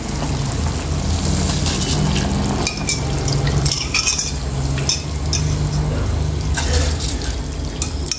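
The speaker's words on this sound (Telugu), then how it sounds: "ఇప్పుడు రైస్ వేసేసుకుందామండి." Rice being added to a pot of boiling water with cooked vegetables for veg pulao, a loud close bubbling and sloshing with spoon clinks and stirring scrapes throughout.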